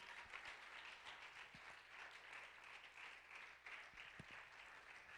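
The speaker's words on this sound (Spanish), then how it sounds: "Vamos a darle un aplauso a mi Dios, amados hermanos." A church congregation applauds during a service, a faint, dense, continuous wash of many hands clapping that holds steady throughout, heard from a distance with no clear voices on top.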